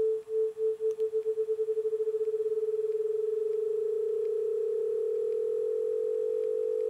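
A steady sine tone at the pitch A, generated in Max MSP, pulses with amplitude modulation that speeds up from slow throbs into a fast flutter and then a near-continuous buzzy tremolo, heard alone.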